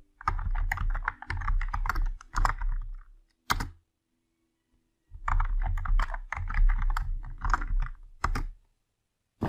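A password is typed on a computer keyboard in rapid bursts of close, crisp key clicks, separated by short pauses and one longer silent gap.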